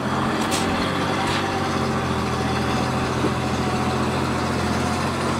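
A van rolls past an e-bike rider on a hill, a loud steady engine drone and road rumble that stays close for the whole stretch, with no voices.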